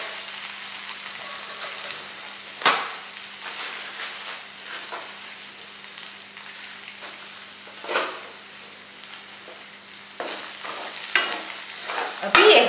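Corn kernels sautéing in a pan for a Chinese hot-and-corny appetizer, with a steady soft sizzle and a few louder scraping stirs of the spatula, close by and alone without talk.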